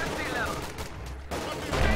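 Machine gun fire in a war strategy game, rapid bursts rattling under steady overlapping battle noise with a voice talking over it.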